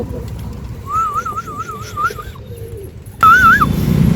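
Australian pigeons in a coop at feeding time give repeated warbling coos, one steady run of calls and then a louder, closer burst near the end over low background noise.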